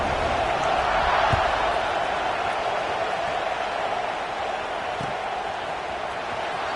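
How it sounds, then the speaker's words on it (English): A steady, dense roar from a stadium crowd at a college football game between Miami and UF just before kickoff, broad and continuous with faint scattered shouts. "this crowd now ready to get behind them"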